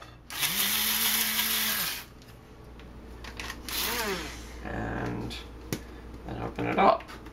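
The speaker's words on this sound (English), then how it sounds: "I like to pulse the spices to make sure that everything's getting churned." An electric spice grinder pulsing roasted spices for a Xinjiang spice mix, a few loud whirring bursts of grinding separated by pauses and rattling, close up.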